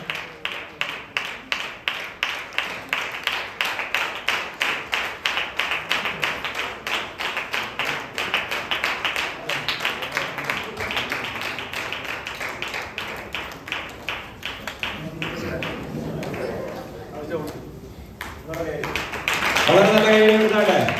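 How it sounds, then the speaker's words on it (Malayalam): The audience at a Sunday school anniversary claps in a steady, rhythmic beat for a long stretch before the clapping loosens and voices rise at the end. "വളരെ നല്ല കൈയടി കൊടുക്കാം."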